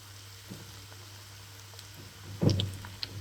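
Cornflour and spring onion pakodi batter drops into hot oil, setting off a sudden close sizzling burst after a quiet, low-humming stretch, then a softer fizz.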